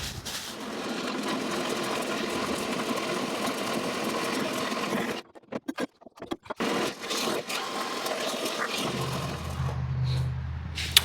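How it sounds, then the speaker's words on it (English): A bandsaw cutting steel pipe into chunks for a custom M2 machine gun tripod, giving a steady grinding whine that breaks off midway into choppy pauses before a low motor hum. "I'm going to get that on the bandsaw here"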